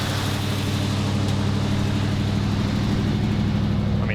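A 1977 Ford F250 pickup with a modified 351 V8 runs at a high idle, a steady low rumble with even pulsing held close and constant throughout.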